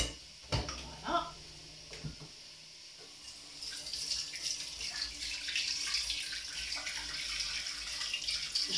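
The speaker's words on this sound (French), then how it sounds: "J'en suis évidemment au lavage des mains" Tap water running at a kitchen sink during handwashing while cooking jambalaya, starting after a few sharp knocks and clinks and then flowing steadily and moderately close for the rest of the stretch.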